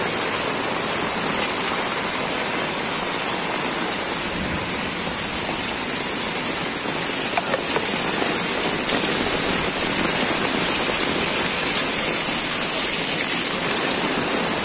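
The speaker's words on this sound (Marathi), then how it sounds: "एवढा पाऊस पडलाय इकडे बघा" Steady, dense hiss of heavy monsoon rain and rushing floodwater in Virar, loud and continuous throughout with no pauses and no voices.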